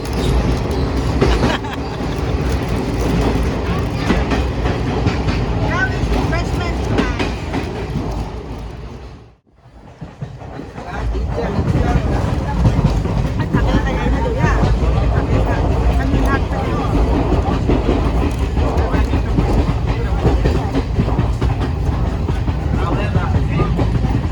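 Loud, continuous rumble of a moving train heard from aboard, with rhythmic clatter on the rails, briefly dropping out midway before the roar resumes.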